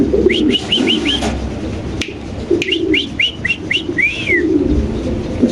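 Fancy pigeons calling close by: two bursts of short, repeated cooing notes, the second ending in a longer rising-and-falling call, over low background noise.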